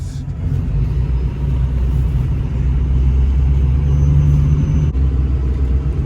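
A truck's engine drones as it drives along, a loud steady low rumble heard from inside the cab, with a slight swell in pitch midway and no talking.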